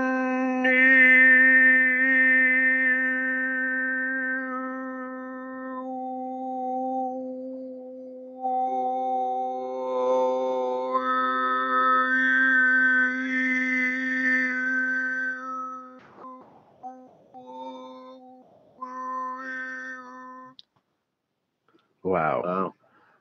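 A single singer sustains a steady vocal drone while tongue movements shape the mouth cavity, drawing out shifting whistle-like overtones above the fundamental; near and loud, fading into breathy pauses and a brief final burst.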